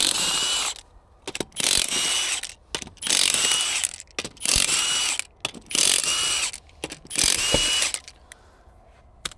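A power tool, likely an impact wrench, loosens the lug nuts on a Can-Am Maverick R wheel. Five loud, rattling bursts of a second or so each are separated by short pauses, close by with no talk.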